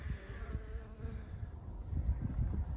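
A low, steady buzzing hum of many honey bees clustered in a hive close by, soft but continuous, swelling slightly toward the end.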